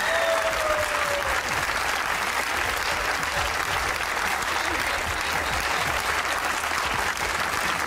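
Studio audience of a Pakistani comedy talk show applauding a guest actress, a dense, steady wall of clapping sustained loudly throughout.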